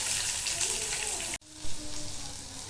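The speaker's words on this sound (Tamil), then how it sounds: "கொஞ்சோண்டு கடுகு போட்டு இப்போ தாளித்து எடுத்துக்கலாம்" Mustard seeds crackle and sizzle in hot oil during tempering for a home kitchen dish, a steady dense frying hiss that breaks off for a moment and then carries on, fairly loud and close, with no talking.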